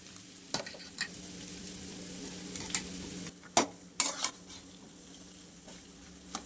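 Cooked kolam rice tipped into a pan of chopped fried egg and stirred, giving a low steady sizzle with sharp clatters and scrapes of a spoon against the pan, close by and without talk.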